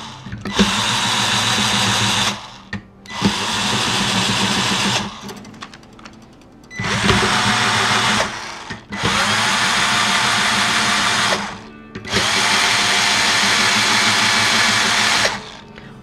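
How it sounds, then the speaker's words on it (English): A string winder spins to unwind the strings of an acoustic guitar, giving several steady buzzing, whirring bursts of a few seconds each, separated by short pauses, close and fairly loud. "I'm going to take my string winder and unwind the strings."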